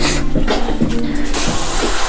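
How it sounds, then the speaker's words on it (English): Airbrush spraying paint onto T-shirts in a graffiti-style job, giving a close, steady airy hiss in short bursts with brief pauses between passes. "This, I want to make sure I don't get overspray on these shirts."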